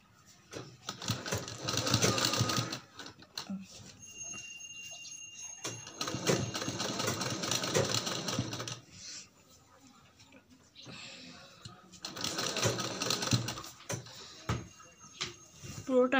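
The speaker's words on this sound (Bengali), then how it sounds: "পুরোটা আমি ডবল করে সেলাই দিয়ে নেব।" A sewing machine runs in three steady bursts with pauses between them, double-stitching the seams of patiyala pants, with some quieter handling sounds in the gaps.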